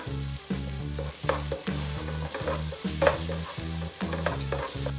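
Vegetables sizzling with ginger paste in a pan while a spatula stirs in a steady repeating rhythm, each stroke a distinct scrape over continuous frying hiss, close and loud with no talking.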